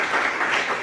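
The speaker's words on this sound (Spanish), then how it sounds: "Un aplauso para el vino." A short burst of audience clapping at a wine conversation event in Yecla, dense and steady for under a second.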